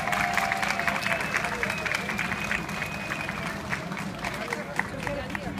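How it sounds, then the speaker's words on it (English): Audience at Baileyfest applauding a performer, a steady wash of clapping with crowd noise and a faint whistle, moderately distant, sustained throughout. "A round of applause one more time"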